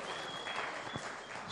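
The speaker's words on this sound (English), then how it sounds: "A big round of applause, ladies and gentlemen." Crowd applause at a movie audio launch event, a dense and fairly faint patter of many hands clapping steadily with a faint tone running beneath it.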